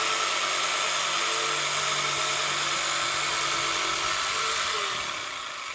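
Power sander grinding steadily on rough, thick wood stock during a creeper seat modification, a loud continuous whine that holds for about five seconds and then fades as the tool winds down.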